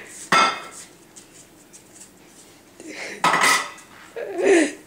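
Pots, pans and cutlery clatter in a home kitchen, with a sharp burst of clanking near the start and another around the middle, followed by a softer rattle, with quieter kitchen noise in between.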